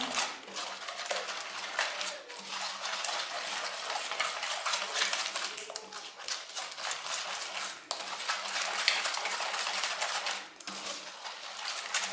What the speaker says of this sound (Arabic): نبدا نحرك حتى يمتزج المزيج مع بعضو